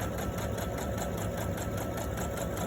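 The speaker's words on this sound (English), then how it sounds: "So yes, I have sewn all the way around." A sewing machine runs steadily at close range, its needle stitching in a fast, even mechanical rhythm with a constant motor hum throughout, no voices.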